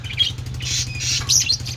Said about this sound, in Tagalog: Badgie crossbreed parakeet.